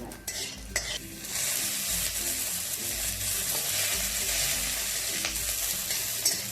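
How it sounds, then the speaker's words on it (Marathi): Green chillies fry in a little hot oil for stuffed okra masala, a loud close sizzle that swells after a few utensil clinks and holds steady, with no voices over it. "आपण थोडंसं तेल टाकून घेऊया। त्यामध्ये मिरची टाकत आहे।"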